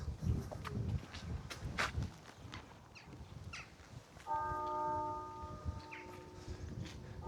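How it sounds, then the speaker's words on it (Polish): Church bells start ringing about halfway through, their sustained, steady tones carrying over outdoor rustling and footstep-like sounds. "Jak Gosia siadła na Hondę, to akurat zaczęły bić dzwony w kościele"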